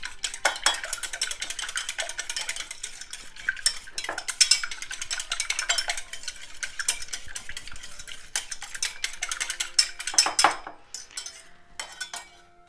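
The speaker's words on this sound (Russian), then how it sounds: "Не взобьем, а размешаем венчиком" A whisk stirs eggs around a bowl for a Napoleon cake batter, giving steady rapid metallic scraping and clinking against the bowl that runs continuously and close up with no talking, fading briefly near the end.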